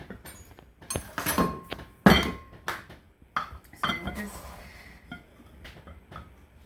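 Measuring cups of sugar for homemade brownies go into a mixing bowl, giving scattered close clinks, taps and thunks of cups against the bowl, with quiet gaps between.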